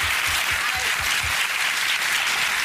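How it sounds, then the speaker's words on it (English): Hand clapping from someone across a room, a short run of about five quick claps in the first second and a half over steady broadband background noise, then fading out. "Are you clapping over there?"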